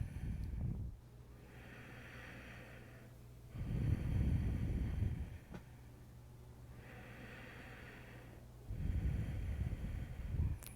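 Slow, deep yoga breathing during a core exercise on a mat: long, airy inhalations and exhalations alternate in a steady rhythm, close and soft, with no talking.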